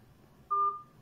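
A telephone gives a single short electronic tone, a clean steady beep lasting about a quarter second over faint background noise, with no speech.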